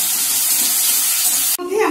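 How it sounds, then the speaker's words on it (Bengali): Sliced onions sizzle in a hot pan, a steady dense hiss for most of the moment before it cuts off abruptly near the end, with clanking and stirring following. "এবারে পেঁয়াজটাকে আমি ভালো করে ফ্রাই করে নিলাম লাল লাল করে।"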